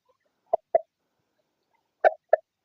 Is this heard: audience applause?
no